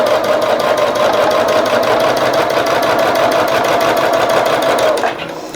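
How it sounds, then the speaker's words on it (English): Close and loud, a sewing machine runs a rag quilt seam under the presser foot in one long, steady burst of fast needle rattle and motor hum, then stops abruptly near the end. "let's get it under the pressure foot and sew your seam"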